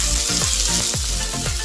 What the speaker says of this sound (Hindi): लो फ्लेम में इसको ऐसे ही फ्राई कर देंगे।